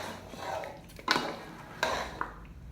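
A spoon stirs goat paya (trotters) with masala in a cooking pot, giving a few clanks and scrapes of metal on metal, with two sharper knocks among quieter rustling stirs.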